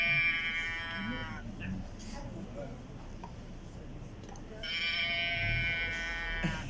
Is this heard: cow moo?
yes